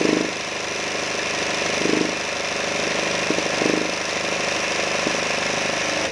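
Domestic sewing machine used for embroidery, running steadily at reduced speed, a continuous close mechanical whir with slight periodic surges and no voices.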